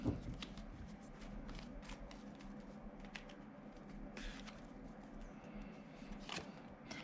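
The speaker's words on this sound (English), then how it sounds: "I'll draw you 3 cards now." Tarot cards are shuffled and drawn by hand, giving soft, quiet riffling and patting with scattered light card snaps throughout, and no talking.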